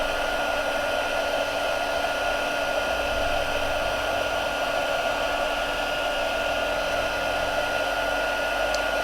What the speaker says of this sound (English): just move the heat gun over the rest of the image, nice and slowly